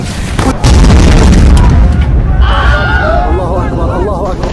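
A huge explosion attack in the One Punch Man video game bursts in as a loud, dense boom that rumbles on, with someone talking excitedly over it.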